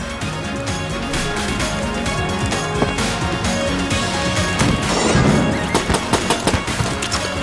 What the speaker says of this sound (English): Kick a table.